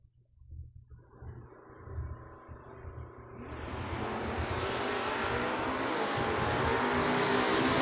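A Camaro drag car launches down the track at a bracket drag racing event, its engine roar swelling from a distant rumble into a loud, sustained blast that keeps building.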